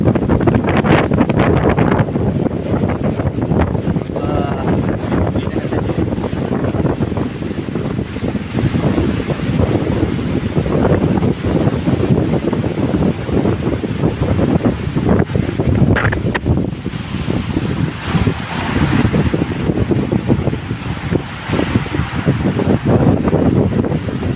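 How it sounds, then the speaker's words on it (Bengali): Heavy rain pours down in strong wind, a loud continuous roar with constant low wind buffeting the microphone throughout. "এখানে বসে আবার অনেক বৃষ্টি, বাতাসের সাথে।"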